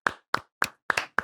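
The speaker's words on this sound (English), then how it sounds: "round of applause for Scott Lorimer returning." Five sharp, separate hand claps ring out close by in an uneven rhythm, a small round of clapping for a returning guest on a film-ranking podcast, with no voices.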